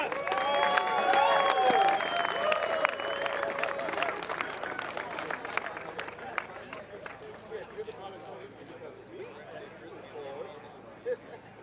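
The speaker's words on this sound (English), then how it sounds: "Give them a big round of applause." Crowd applause at an off-road racing podium ceremony for open four-wheel drive class winners, dense clapping with some cheering and chatter, loud at first then gradually thinning out, heard over other background sounds.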